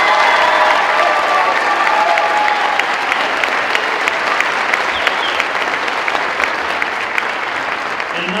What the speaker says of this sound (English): Let's give a round of applause to our students for their performance tonight